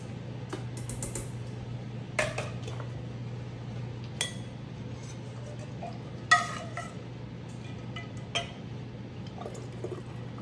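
A quart glass mason jar handled in a kitchen, giving a few light, separate clinks and taps at irregular moments, faint and close, against a low steady hum.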